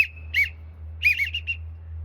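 Someone blows a widgeon call on a Leaning Tree duck whistle: a short whistled note, then a pause, then a quick run of several chirping whistled notes, clear and close, over a steady low hum.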